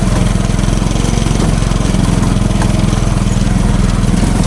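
A motorcycle engine with a loud exhaust runs on a rough mountain road toward a jungle farm in Bamban, Tarlac, giving a steady, close, throbbing drone that holds at an even level throughout.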